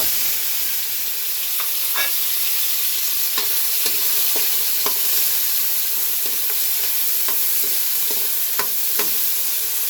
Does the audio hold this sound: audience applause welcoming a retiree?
no